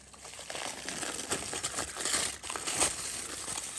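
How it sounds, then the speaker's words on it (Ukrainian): Aluminium foil being peeled off a baked sponge cake, close crinkling and rustling that continues in uneven bursts with no talk. "Ось так витягувати, фольгу знімаємо."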